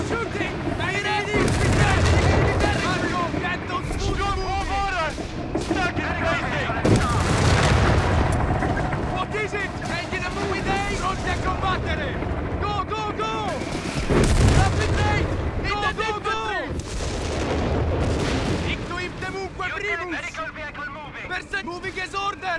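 Dense gunfire and artillery booms in a Company of Heroes 3 multiplayer tank battle with the Afrikakorps, continuous bursts and heavy blasts over shouting voices throughout.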